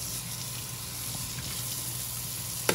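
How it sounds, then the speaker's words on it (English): Water runs steadily over a sprouting jar lid being rinsed, a constant splashing hiss with a small clunk near the end. "There we go, rinsing the lid."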